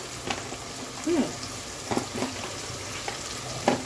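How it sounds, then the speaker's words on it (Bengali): Onion and ginger paste frying in a pan, with a steady low sizzle under a few scraping stirs of a utensil against the pan. "এখন এই যে পেঁয়াজটা কিন্তু হাফ ভাজা করে নিয়েছি, হাফ ভাজাই রাখতে হবে।"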